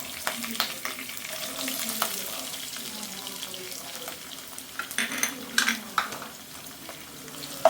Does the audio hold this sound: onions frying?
yes